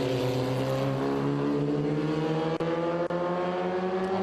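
Lexus race car in an SVRA vintage race at VIR, a loud, steady engine drone holding one high pitch down the back straight with a couple of brief shift cuts.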